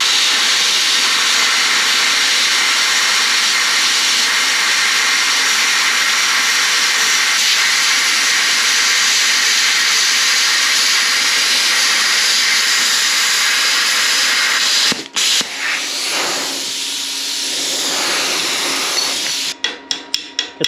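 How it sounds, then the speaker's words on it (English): A BESTARC BTC500XP home plasma cutter slicing 3/8 inch thick steel gives a loud, steady hiss for about fifteen seconds, then cuts off with clicks and short bursts of air. "any home plasma cutter that can cut that is doing pretty well"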